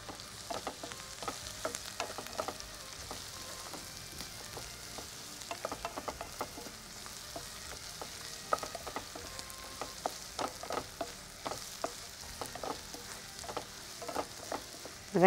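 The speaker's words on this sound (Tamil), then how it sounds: "வெங்காயம் வதங்க வதங்க அது இழுத்துக்கிட்டு இருக்க எண்ணெயை வெளியில் நல்லா தள்ள ஆரம்பிக்கும்." Onions sauté in oil with a little salt, a soft, fairly quiet sizzle broken by frequent small crackles and stirring clicks, steady and close without speech.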